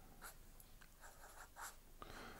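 A pen drawing music notes and flags on a staff on paper makes quiet, close scratchy strokes in short bursts, with small pauses between marks.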